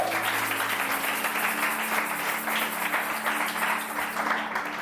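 A church congregation applauds during a sermon, sustained dense clapping from many hands, fairly close and steady for several seconds.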